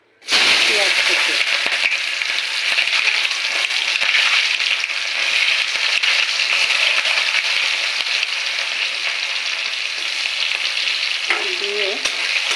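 Chopped onion tipped into hot oil for a tilapia and bottle gourd curry bursts into a loud, close sizzle that holds steady and crackling throughout, with occasional stirring scrapes.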